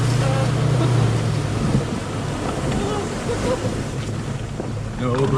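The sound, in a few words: truck driving through water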